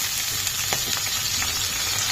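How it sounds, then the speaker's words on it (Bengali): Shrimp frying in a pan with green chillies, a steady close sizzle and crackle running without a break, with a few faint scraping stirs. "চিংড়ি মাছটা একটু ভাজা ভাজা হোক,"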